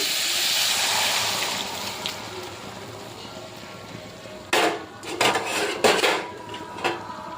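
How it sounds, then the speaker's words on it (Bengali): Jute leaves are dropped into a simmering shrimp curry in a metal pan. A steady steamy hiss runs for several seconds, then a burst of clattering and scraping as utensils knock against the pan, close and loud, with no speech. "এবার পাট পাতাটা দিয়ে দিচ্ছি।"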